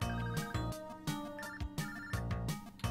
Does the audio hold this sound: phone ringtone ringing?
yes